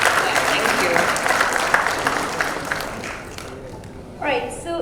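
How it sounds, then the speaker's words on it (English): Applause from an audience at a panel discussion and award ceremony, dense clapping that fades gradually, with a voice starting to speak as it dies down. "can we have a big round of applause for Jacqueline Fernandes?"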